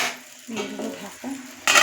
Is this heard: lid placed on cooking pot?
yes